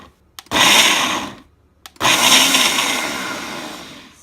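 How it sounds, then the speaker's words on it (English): A food processor or blender purées apricots for a cookie filling in two loud, sustained bursts separated by a brief pause, with no talking. "So what you have to do is food processor or blender."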